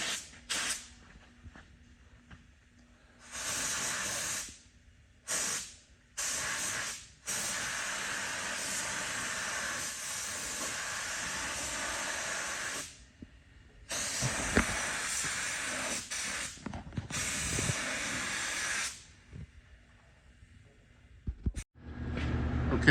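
Primer being spray-painted onto a truck frame from an aerosol can, loud hissing bursts of varying length, several short sprays and a few long sustained ones separated by quiet gaps, close up and without talk.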